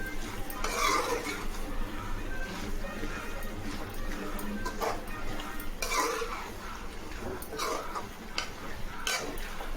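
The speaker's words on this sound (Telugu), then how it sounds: "అన్నీ వేసుకొని వేగేలాగా కలుపుకోవాలి" Goat tripe (boti) frying in a pan while being stirred, with repeated scraping and clinking of a spoon against the metal over a soft sizzle, close by, with someone talking at times.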